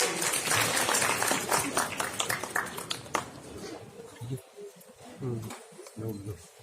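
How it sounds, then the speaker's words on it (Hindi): A packed hall applauds at a media awards ceremony at Pyare Lal Bhawan, with dense clapping for about four seconds that then thins out as a voice talks over it. "जोरदार तालियां हो जाए।"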